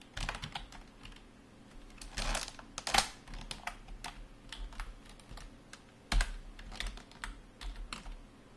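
Steady typing on a computer keyboard in a quiet room, with rapid clicky keystrokes and a few louder heavier presses, close up and with no voices.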